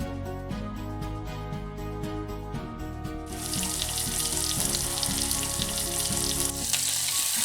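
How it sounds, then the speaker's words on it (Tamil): Cumin and onions fry in a pressure cooker, a busy sizzle that swells and stays loud after a few seconds, with faint clinks and stirring under it. "இப்போ தாளிக்கிறதுக்கு ஜீரகம் போட்டுட்டு அதில் கொஞ்சமாக வெங்காயம் போட்டுக்கலாம்."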